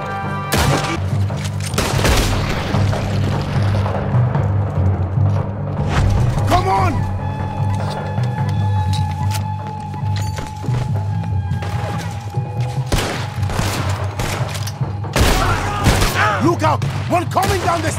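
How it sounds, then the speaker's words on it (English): Cannon fire and gunshots in a Red Dead Redemption 2 battle, with loud repeated booms and thuds over a dense din of gunfire and shouting voices throughout. "There's another set of cannons up ahead!"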